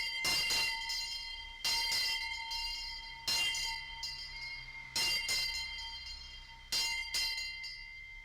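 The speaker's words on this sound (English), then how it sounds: "the station master would go up the steps to the station entrance and ring this bell as such." A railway station bell rung by the station master at the station entrance, sounding as five or six loud, bright clangs in irregular bursts, each strike ringing on with a long sustained tone.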